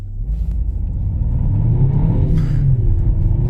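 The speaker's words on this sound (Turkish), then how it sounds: "Bayağı iyi hızlanıyor ya araba." A Renault Megane 1.3 TCe Icon accelerates hard in sport manual mode. A loud, close interior engine rumble rises steadily in pitch with a brief shift-like break, and no one speaks.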